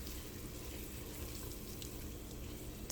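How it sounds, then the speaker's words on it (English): Onions and shallots sautéing in a pan, a soft, continuous sizzle that stays steady and fairly faint for the whole stretch, with no talking. "I'm just sauteing the onions and shallots"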